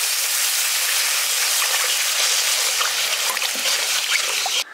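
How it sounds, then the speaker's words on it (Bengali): Water pours into hot frying masala for a village-style rohu fish kalia, making a loud, steady hiss and splash that runs continuously and close before cutting off abruptly at the end. "এবার আমি জল দিয়ে দিচ্ছি।"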